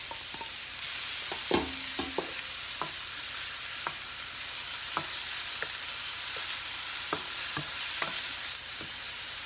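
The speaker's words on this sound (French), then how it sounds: "Je fais revenir l'oignon." Onions sauté in melted butter in a pan, a constant close sizzle broken by scattered light clicks of a utensil stirring; no one speaks.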